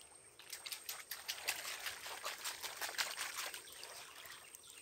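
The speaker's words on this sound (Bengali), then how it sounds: "ধর জল একটু ধুয়ে নে" Water poured in a steady splashing trickle over freshly caught crabs in a deep Sundarbans mangrove forest, rinsing them with uneven pulses of spatter, close and fairly soft.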